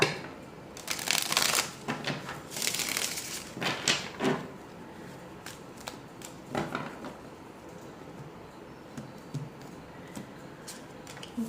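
A deck of tarot cards is shuffled by hand in a few quick, riffling bursts of papery flutter and tapping, close and fairly quiet, with small knocks between and no talking.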